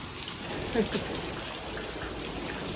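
Steady rain falls during outdoor Navratri festival preparations, a continuous soft hiss of drops on surfaces with faint voices mixed in underneath.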